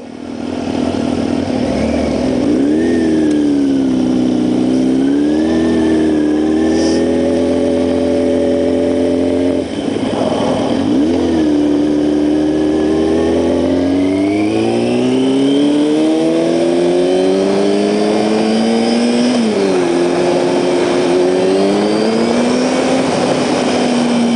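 A Yamaha R6 sport motorcycle with 14,000 miles on it revs hard and loud, its engine pitch climbing and falling through repeated accelerations and gear changes, with no talk.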